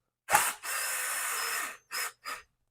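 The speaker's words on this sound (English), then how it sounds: "now I'll use the drill" Cordless power drill driving screws into plastic prefab door parts on a 2005 BMW X3, close by: one sustained whir followed by two short bursts, no talking.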